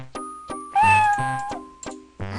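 A cat in the adventure game Quest for Glory 4: Shadows of Darkness gives several loud, close meows in a row, with a drawn-out, wavering cry in the middle between shorter calls.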